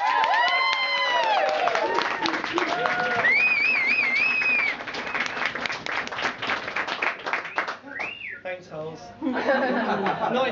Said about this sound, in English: Can I have a round of applause for Ant?